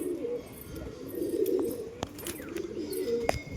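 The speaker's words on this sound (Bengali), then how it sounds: "এই যে লাফ মারছে কবুতরে" Soft pigeon coos murmur close by, with a few sharp clicks and flutters, in an otherwise quiet space.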